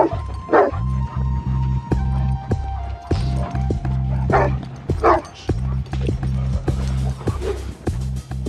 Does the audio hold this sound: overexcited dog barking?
yes